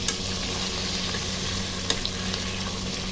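Chicken adobo fries in a pan with oil, giving a steady close sizzle and crackle with an occasional sharp pop.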